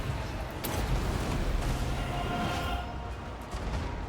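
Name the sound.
flame cannons firing in Total War: Warhammer II video game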